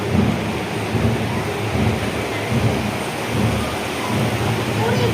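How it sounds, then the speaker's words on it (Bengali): Sudden heavy rain pouring down outside a home, a dense steady roar with low rumbling thunder swelling and fading throughout. "হঠাৎ করে দেখো ঝাঁপিয়ে বৃষ্টি নেমে গেল।"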